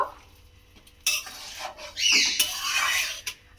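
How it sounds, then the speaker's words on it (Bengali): A soybean and egg curry is stirred in a pan, with a spoon scraping and clinking against the metal in bursts, close up and loud, without talk. "এবারে খুব ভালো করে মিশিয়ে নেব"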